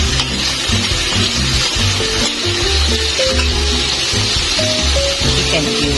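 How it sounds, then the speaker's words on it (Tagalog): Garlic and onion sautéing in a pan for soup, a steady broadband sizzle and hiss running the whole time with low clatter and faint background sounds underneath. "ginigisa na po natin ang bawang, sibuyas"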